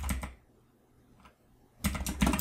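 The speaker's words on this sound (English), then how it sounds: "I'm going to type in table view" Computer keyboard typing comes through in short bursts of close, crisp key clicks, with a quiet pause between a first flurry and a busier closing run.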